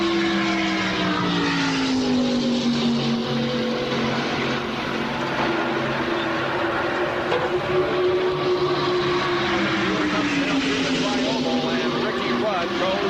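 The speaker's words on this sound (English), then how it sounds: "And let's listen to the cars." NASCAR stock cars at the 1991 Winston 500 roar around the track, a loud sustained engine drone rising and falling in pitch as the field passes, with crowd and track noise beneath.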